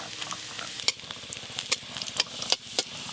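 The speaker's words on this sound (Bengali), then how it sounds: "গরম তেলে দেবো রসুন কুচি আর দেবো শুকনো লঙ্কা।" Chopped garlic and dried chili sizzling in hot mustard oil, a soft steady sizzle broken by sharp clicks and scrapes of stirring in the pan.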